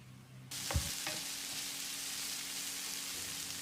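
Steady loud sizzling of tomatoes frying in a pan starts abruptly, with a couple of brief stirring scrapes early on, continuing without talk.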